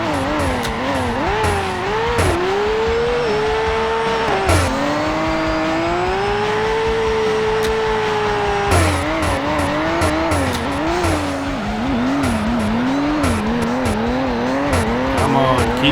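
Car drifting in the CarX Drift Racing Online video game, engine revving and wailing up and down continuously with sustained tire squeal throughout, loud and close.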